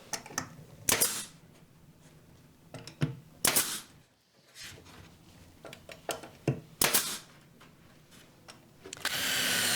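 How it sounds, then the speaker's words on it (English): A drill bores pilot holes into wood for screws securing the top of a walk-up bar unit. Short, loud bursts come with quiet gaps between them, close by, with no voices. "I'm drilling pilot holes, and then I'm using 1 1/4" screws to secure the top."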